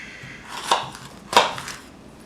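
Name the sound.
knife cutting jalapenos in half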